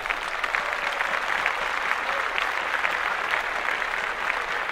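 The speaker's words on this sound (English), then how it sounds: "so let's clap that up" Close, loud group clapping on a sports podcast after a player's big passing game, an even, dense burst of claps lasting several seconds without speech.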